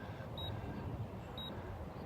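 A timer sounds two short, faint high beeps about a second apart before a 20-ounce Wild Hawk RC plane flies on a breezy day, heard over a steady outdoor wind rush.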